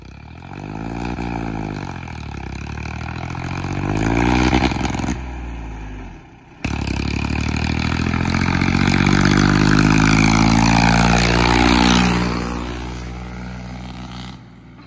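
A tractor engine revs hard and loud at close range, its pitch climbing and falling in long sweeps, with a brief cut partway through before it roars up again.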